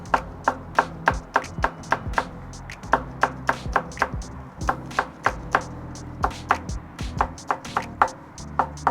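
A knife chopping green onions on a cutting board, a fast run of sharp, close, rhythmic knocks repeating steadily for several seconds with no voices.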